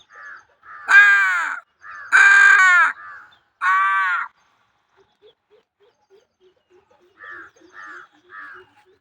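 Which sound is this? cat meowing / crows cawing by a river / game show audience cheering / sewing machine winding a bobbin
crows cawing by a river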